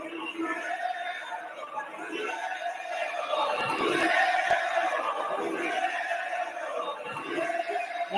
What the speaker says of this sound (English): I'm sure the crowd's cheering right now.